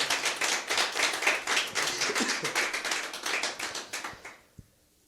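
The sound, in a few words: audience applause in church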